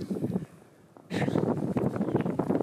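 Wind during snowfall in freezing weather below minus ten, a rough gusty roar on the microphone that drops to a lull, then surges back loud and steady.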